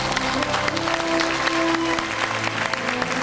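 A studio audience at a televised talk show applauds to welcome a guest onto the stage, a dense, steady wash of clapping from many hands, with music playing beneath.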